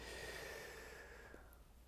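A slow, deep inhale through the nose during a qigong breathing exercise, a soft airy rush close to the microphone and fairly faint.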